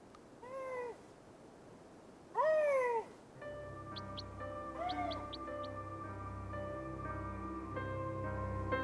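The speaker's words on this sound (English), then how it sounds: "It is an unforgettable experience to hear a lynx's mating call" A male lynx gives a mating call in late-winter woodland: a few drawn-out, meow-like wails, then a continuous tonal hum with faint chirps, all distant and quiet.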